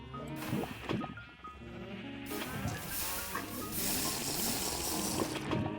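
Minecraft sheep bleat a few times, close and clear, alongside a running, water-like rush in the game's background.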